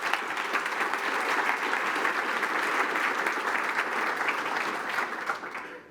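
An audience at a conference claps steadily for about six seconds, with dense, even applause that fades slightly at the end.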